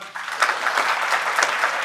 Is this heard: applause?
yes